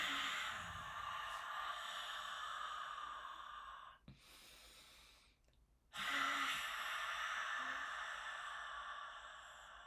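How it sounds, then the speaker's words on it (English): Slow, deep breaths during a guided relaxation session, with two long, airy breathing passages separated by a quiet pause of about two seconds, close and fairly soft, with no talking. "Let's take a few deep breaths."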